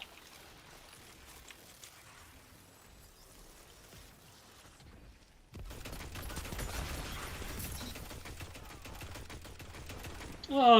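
Gun bursts from the shooter Destiny 2, a rapid rattle of shots that kicks in halfway through after a quiet stretch and keeps up as a loud, dense barrage.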